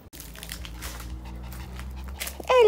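A pet dog pants softly while being petted at home, the quick breaths close and quiet over a faint low hum, ending with a brief louder rustle.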